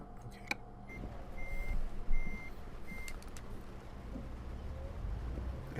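A Volvo FH truck in Euro Truck Simulator 2 sounds evenly spaced electronic reversing beeps, a few clear tones repeating at a steady rhythm over low engine rumble.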